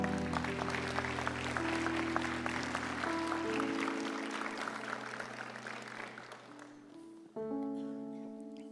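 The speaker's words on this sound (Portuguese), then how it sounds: "Você pode aplaudir Jesus por isso?" A church congregation applauding during a sermon, dense clapping under sustained organ or keyboard chords that fades toward the end before the music swells again alone.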